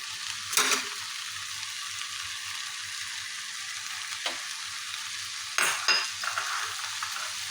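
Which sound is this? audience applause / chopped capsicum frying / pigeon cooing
chopped capsicum frying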